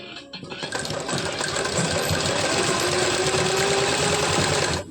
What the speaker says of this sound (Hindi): मैं सिलाई लगा रही हूँ यहाँ पर